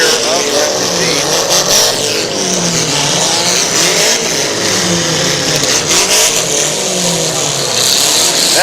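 A demolition derby car at an Athens County derby, its damaged rear end barely holding together, revs its engine loudly and continuously with rising and falling pitch, while an announcer talks over the noise.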